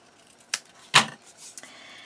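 Scissors cut paper strips in a few crisp, brief snips, one louder than the others, set against a quiet room.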